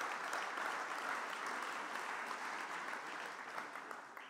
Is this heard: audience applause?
yes